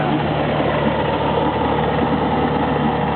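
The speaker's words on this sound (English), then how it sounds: "I took the props off, so this way I can rev up the motor to make it run a little hotter" A Nissan 25 outboard motor runs with its props removed, revved to heat it up, a loud, steady droning engine sound that holds evenly throughout, close to the microphone.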